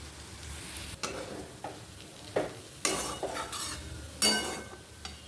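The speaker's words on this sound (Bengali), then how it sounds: "বড়াগুলো দিয়ে দিলাম একেবারে, একটু বেশি করে তেল দিয়ে" Banana-flower fritters fry in a generous amount of oil, giving a steady low sizzle with several sharp spatula knocks and scrapes against the pan, close and moderately loud, with no talking.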